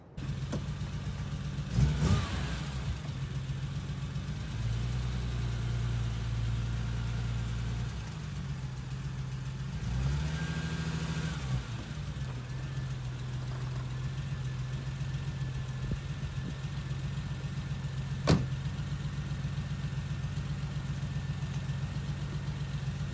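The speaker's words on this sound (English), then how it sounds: "It is misfiring slightly. Every now and then it does misfire." A BMW E34 M5 with the 3.8 six-cylinder idling with a slight misfire, a steady low engine drone broken by a couple of brief rev rises and occasional clicks, fairly quiet and without talk.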